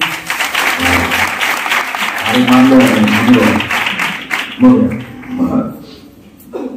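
Congregation at a church women's fellowship meeting claps in a sustained round of applause, loud and near, with voices talking over the clapping before it tapers off.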